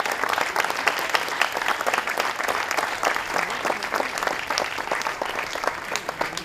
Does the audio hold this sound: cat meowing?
no